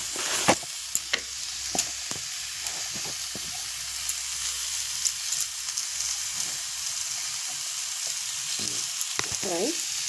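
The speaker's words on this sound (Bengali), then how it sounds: "দেখো ভালো করে নাড়ি" Food being stirred in a pan while it fries, a steady sizzle with intermittent scraping strokes of the spoon against the pan, fairly close and moderately loud, no voices.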